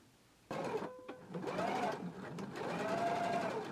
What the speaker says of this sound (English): Now, still over here at the sewing machine, I'm going to go ahead and close up my opening.